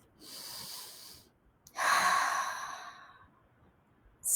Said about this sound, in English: Turtle sat in the dirt and took some more deep breaths.